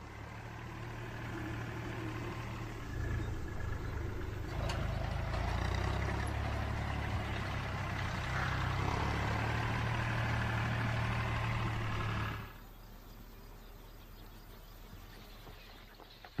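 Tractor engine running in a field where storks forage, a steady low heavy rumble that grows louder midway and then cuts off abruptly, leaving quieter outdoor ambience.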